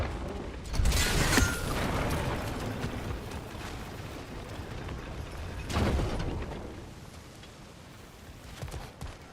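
A crank mechanism being turned in God of War Ragnarök, giving creaking, ratcheting mechanical grinding with two loud bursts of turning and a quieter stretch in between.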